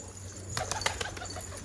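Pigeons flutter and coo nearby on a rooftop, with a burst of wing flaps amid a low steady hum in the background.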